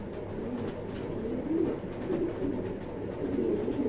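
A pigeon coos softly in a loft, a few low, rolling coos repeating under quiet background noise.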